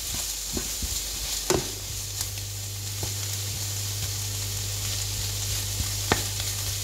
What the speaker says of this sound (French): Hop, voilà, on ajoute le tofu.